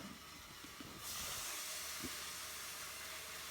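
Bacon sizzling in a frying pan, a steady broadband hiss that swells louder after a moment and carries on, with faint clicks and pops underneath.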